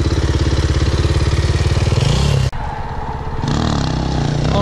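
A motorcycle engine revs hard in third gear for a wheelie, loud and close with a buzzing drone. It cuts off abruptly halfway, then settles into a lower, steady running note.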